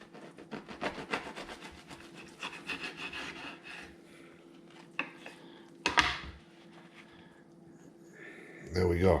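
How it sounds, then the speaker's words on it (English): Knife cutting a chopped cheese sandwich down the middle: rhythmic rasping saw strokes through bread, then a sharp crunch and a final clatter on the board, with a person talking lightly over it. "We're just going to give it a cut down the middle."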